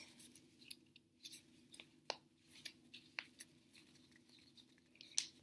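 Scissors snipping through folded paper for a papel picado craft, a quiet, close series of irregular crisp cuts and small paper rustles.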